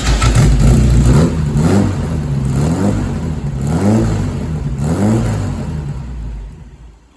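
A gutted car runs on a temporary muffler. The engine is loud and close, rising and falling through several rev cycles before settling and fading at the end.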